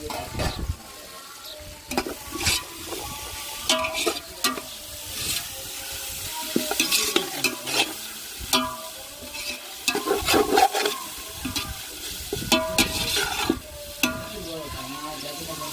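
Loud sizzling of herbs frying in a hot tempering pan with repeated clattering strokes of a spoon stirring, busy and close throughout.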